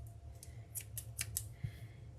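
Scissors snipping craft pieces for a fake cake, several crisp close cuts in a quick irregular sequence over a quiet background hum.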